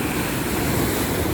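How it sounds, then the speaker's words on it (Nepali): Strong wind roars continuously at a seaside in Fahaheel, Kuwait, blending with surf and buffeting the microphone in a dense, steady rush with no voices. "आज धेरैभन्दा धेरै हावा चलिरहेको छ।"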